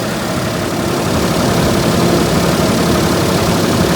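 A secondhand car's engine idles shortly after a cold start, a loud, close, steady low rumble with even vibration and no talking.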